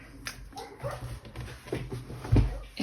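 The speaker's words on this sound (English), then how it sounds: "In this neighborhood, unfortunately or fortunately, dogs are really active, so sorry you had to hear that" Dogs in a residential neighborhood whimper and yip in short, faint bursts heard from a distance, with low background noise throughout.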